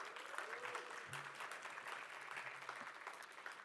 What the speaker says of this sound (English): Can we give him a little applause from California?